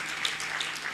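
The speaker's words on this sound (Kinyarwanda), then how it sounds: "tubakore amashyi menshi" A church congregation claps, a brief, dense burst of applause that lasts about a second.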